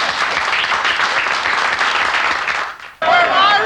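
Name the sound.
audience applause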